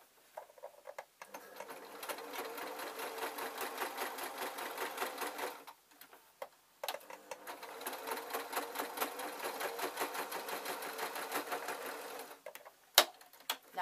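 A sewing machine runs in two sustained bursts of rapid, even stitching on a reading-glasses case, separated by a short pause, with a few clicks and clunks at the end; no talking.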